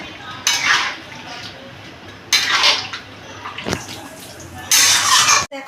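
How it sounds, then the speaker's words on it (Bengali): A spatula scrapes and stirs chicken with chopped tomato in a cooking pan in three loud bursts of metallic scraping and wet sizzle separated by quieter gaps, with a sharp clink between them. "দিয়ে এবারে আমি এটাকে একটু ভালো করে মিশিয়ে নিচ্ছি।"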